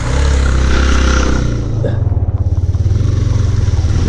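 A motorcycle engine rumbling close by, loud and steady, then settling into a pulsing idle-like throb as it passes, with background voices faintly present.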